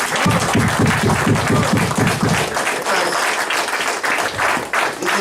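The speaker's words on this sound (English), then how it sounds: "Give that scripture a round of applause" A congregation at an elders' summit in San Antonio, Texas, breaks into a loud, dense round of applause for a scripture reading, with a rhythmic low pulse under the clapping in the first half before the clapping continues alone.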